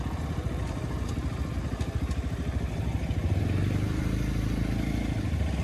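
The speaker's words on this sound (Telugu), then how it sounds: "ఇప్పుడు అనేది బైక్ పార్కింగ్ చేద్దాం." A motorcycle idles close by as it is parked after a 270 km ride through the Nallamala forest near Srisailam. A low, pulsing engine rumble throbs steadily with faint clatter.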